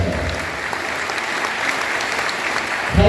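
Audience applause at a council gathering in Caxhuacan, Puebla, a sustained wash of many clapping hands at steady volume, swelling slightly at the very end.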